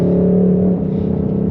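A 2022 Ford Mustang Mach 1 5.0 Coyote V8 drones and revs briefly, a loud low exhaust rumble that shifts as the throttle changes and the exhaust opens up.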